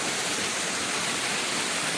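Dense, steady rush of flowing rainwater runoff after heavy rain, broadband and constant, pouring without pause.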